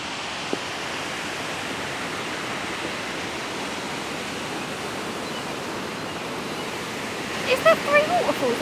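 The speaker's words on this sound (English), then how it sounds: "we're going to show you these waterfalls as quickly as we can" Steady broadband rush of waterfalls along a nature trail in Wales, continuous and fairly loud throughout, with a few brief voices or bird-like chirps near the end.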